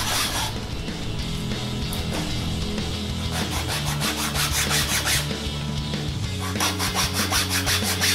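Hand finishing of a 3D-printed Ferris wheel gondola, with supports being removed, gives a continuous close scraping and rubbing like filing or sanding, with a brisker rhythmic strokes near the end and no speech.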